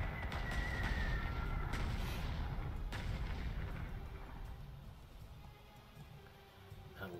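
Bombs from a Dornier 217E fall on anti-aircraft defenses in the strategy game Panzer Corps II, heard as a rumbling series of heavy booms and sharp blasts that fade into a low, dying rumble, with no talking.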